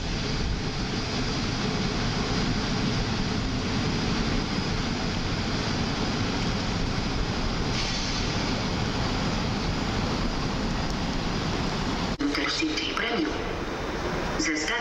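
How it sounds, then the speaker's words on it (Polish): A TLK passenger train with a declassified first-class carriage slowly pulls away from a platform at Warszawa Zachodnia station, giving a continuous loud rumbling roar that holds steady, with a brief shift in texture near the end. "I tak leniwie pociąg nam odjeżdża."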